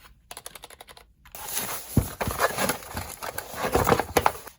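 Typing on a Geodmaer 65% gaming membrane keyboard: a short run of light clicks, a brief pause, then quicker, denser keystrokes and rattling taps, close by with no talking.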